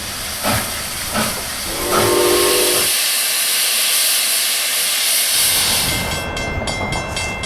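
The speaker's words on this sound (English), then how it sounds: "The train slows into Port Chicago on the SP, where it will switch over to the Santa Fe to head east toward Stockton." Canadian Pacific Royal Hudson 2860 steam locomotive slowing into Port Chicago: loud, steady steam hiss and rumble, with a short whistle-like tone early on and a sharper hissing burst near the end.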